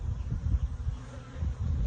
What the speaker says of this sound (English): get away from me, bee.